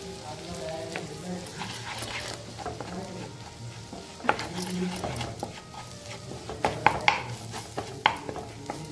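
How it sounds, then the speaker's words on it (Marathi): Gram flour frying in oil in a pan for an egg gravy, stirred steadily, giving a continuous close sizzle with scraping and a few sharp utensil knocks toward the end. "तेलामध्ये व्यवस्थित असं भाजून घ्यायचं आपण."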